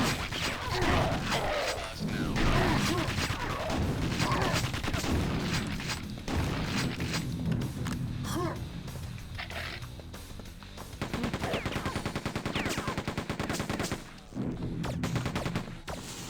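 Super shotgun blasts from Quake 2 played on Nightmare difficulty, heavy booming gunfire repeating through a dense, loud stretch of game action with continuous explosions and clatter.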